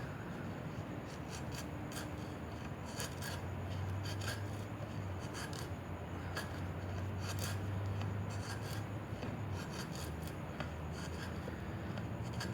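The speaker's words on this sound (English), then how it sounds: "First we'll try just a little bit of feathering with it, see how it does." An Aranyik Enep machete shaves feather sticks from pine wood, giving a steady, close rasping scrape made of repeated strokes, with no talking.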